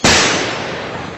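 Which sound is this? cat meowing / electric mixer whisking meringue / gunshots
gunshots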